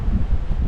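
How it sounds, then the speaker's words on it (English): Steady wind buffeting a microphone, a constant low rumbling roar with gusty swells and no voices. "it's so windy up here, the camera keeps on trying to fall over"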